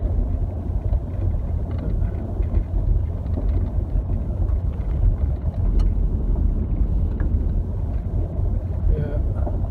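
A truck, driven in the same vehicle as the speaker, rumbles steadily along a freshly oiled and chipped gravel road near hayfields, with constant low engine and tire noise and wind buffeting throughout.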